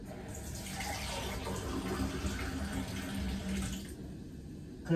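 Steady rush of running water filling a sink to soak a boneless spiral ham, broadband and continuous for several seconds before cutting off, close by with faint background noise.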